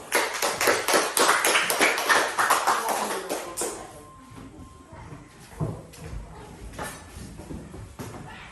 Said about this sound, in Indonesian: Sekarang tepuk tangan untuk kelompok 1.